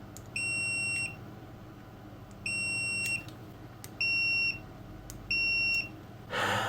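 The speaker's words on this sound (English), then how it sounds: "They beep on the diode range if the diode is shorted." A Hioki multimeter on its diode range gives four loud, steady electronic beeps, each about half a second to a second long, separated by short pauses, followed by a brief burst of noise at the end.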